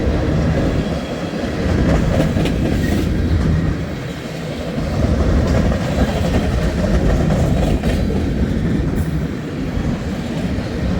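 A BNSF freight train rolls past at Sioux City on a sunny day, with a steady loud rumble and clattering wheels that swell and ease slightly and continue throughout.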